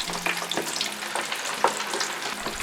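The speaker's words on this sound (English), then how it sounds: "Fry them for 3 minutes." Shrimp wrapped in egg noodles frying in oil heated to 180 degrees Celsius, giving a steady close sizzle with small irregular crackles and pops, alone with no voices.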